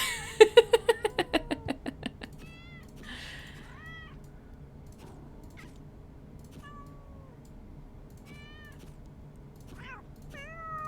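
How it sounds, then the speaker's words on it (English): A rapid string of short, high meows opens, then sparse chirpy cat meows and trills sound intermittently over a quiet background. "I do like all the cat sounds, though."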